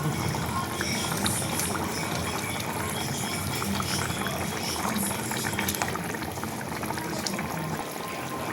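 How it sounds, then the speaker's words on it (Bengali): Water is added to a fried spice mix for a boal fish curry and left to boil, giving a steady, dense bubbling and simmering wash that continues unbroken throughout. "এখন আমি জল দিয়ে দেবো। ফুটুক, বোয়াল মাছগুলো দিয়ে দেব।"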